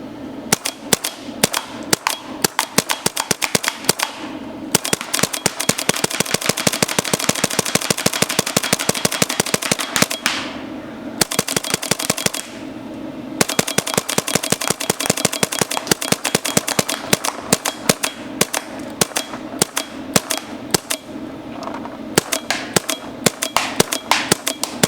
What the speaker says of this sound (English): Hopefully you'll be able to hear the marker as good as it can.